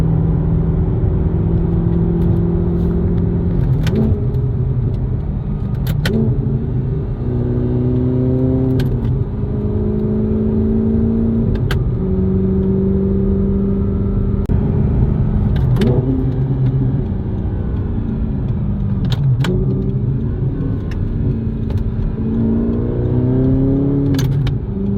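A manual Audi R8 cruises at low revs while its engine warms up, a steady mid-pitched drone inside the cabin with engine tones that rise and fall repeatedly as it shifts and eases along.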